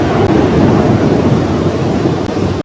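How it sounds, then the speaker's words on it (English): A thunderstorm in Beijing with strong wind and heavy rain gives a dense, loud roar of rushing wind and downpour that continues without a break and then cuts off abruptly. "Strong winds and heavy rain mixed with lightning swept through the city."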